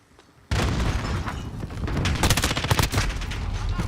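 Rapid bursts of Call of Duty: Modern Warfare gunfire erupt after a brief quiet start, loud and dense, with sustained automatic fire and sharp cracks continuing throughout.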